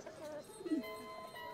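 A caged pigeon lets out a single soft, low coo midway through, faint over a steady background hum.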